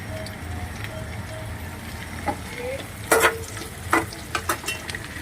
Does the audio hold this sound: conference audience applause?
no